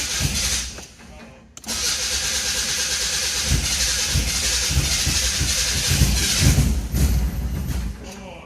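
A Mazda Miata engine, dosed with starting fluid, cranks loudly and steadily at close range, stopping briefly near the start and then cranking again for a long stretch.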